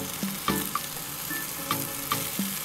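Rehydrated chilies frying with aromatics for birria, a steady close sizzle broken by several sharp scraping stirs and clinks of a utensil against the pan.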